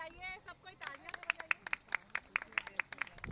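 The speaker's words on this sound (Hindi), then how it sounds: "तालियां बजती रहे" At a Brahmin community food fair in Bhatapara, an audience claps in a steady, rhythmic beat of sharp slaps that follow a brief voice, fairly faint and evenly spaced.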